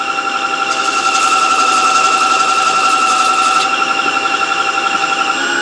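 A homemade tool-sharpening station grinds and hones a skew knife, giving a loud, steady, high-pitched whine with a sustained squealing tone that holds for the whole stretch, with no talking.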